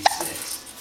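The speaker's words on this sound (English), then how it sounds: "It's hard to talk when you have the hiccups." A single short hiccup from a seven-week-old baby, close and fairly soft, followed by a quiet room.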